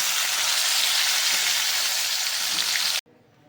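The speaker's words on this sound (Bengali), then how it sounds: "এরকম করেই সব মাছগুলি ভেজে নেব" Fish frying in hot oil gives a loud, dense, steady sizzle with no talk, cutting off abruptly near the end to a faint background.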